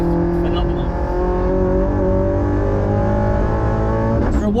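A Peugeot 308 GTI's 1.6-litre engine revving hard on the Nürburgring, a loud, steady in-cabin drone rising in pitch, with voices talking over it.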